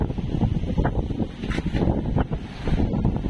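Strong wind buffets the microphone in a constant low roar, loud and continuous throughout, with gusty swells rising and falling.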